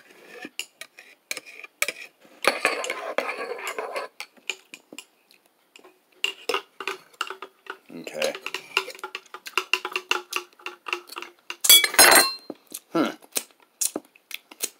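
A spoon clinks and scrapes quickly against a cup while stirring in Garden of Life grass-fed chocolate collagen creamer, coming in dense bursts of light metallic ticks with short pauses and a few louder knocks, close and clear.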